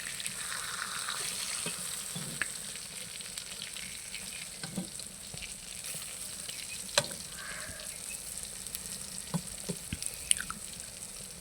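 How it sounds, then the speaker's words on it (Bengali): Brinjal (eggplant) slices frying in oil in a pan, a steady close sizzle and crackle with occasional sharper pops and light clinks as the slices are turned, no voices. "আমি এখন উল্টিয়ে অন্য পিঠটা আবারও ভেজে নিব।"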